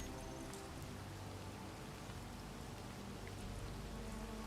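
Steady rain in the video game Space Engineers, a dense, even hiss of falling drops with a faint low hum beneath, continuous and unbroken throughout.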